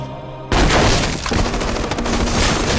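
Gunfire in a violent cartel action movie scene, a sudden loud burst of rapid overlapping shots and booms that rings on densely for a few seconds.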